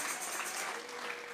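A church congregation claps in steady, dense applause offered to God during a service, a continuous patter of many hands sustained throughout at a fairly even level.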